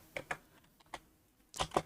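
Keys clack on a computer keyboard in a few sparse, irregular taps, then a quick cluster of louder strokes near the end, close and clear with no talking.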